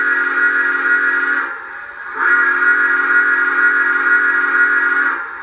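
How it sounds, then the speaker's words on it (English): Two long, loud blasts of a Lionel C&O F19 Pacific model train whistle with a short gap between them, steady and clear, no voices. "So here's the whistle."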